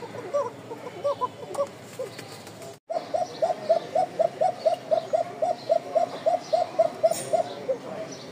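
Pigeons kept for breeding coo steadily, a run of evenly spaced, rounded calls repeating close by after a brief silent break, with softer coos before it.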